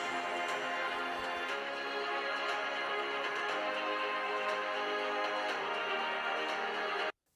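Music playing through the built-in speakers of a Razer Blade 16 2023 gaming laptop at 50% volume, a dense, steady full-range mix that cuts off abruptly at the end.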